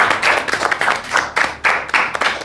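A small group claps together for a correct answer during a World Cup–themed quiz show, with brisk, uneven hand claps that come in close bursts and lulls and no talking over them.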